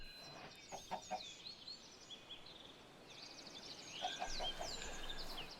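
Chickens cluck and chirp in Minecraft, a few scattered bursts and then a busier cluster near the end, moderately close and fairly quiet against a soft background hiss, with no talk.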